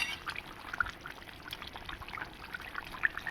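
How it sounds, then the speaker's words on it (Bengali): Fish poured into a pot of half-boiled potatoes and simmering water for a home-cooked machher jhol, giving a faint, soft liquid splash and trickle with gentle bubbling, quiet and close. "তখন আমি মাছগুলো ঢেলে দিলাম।"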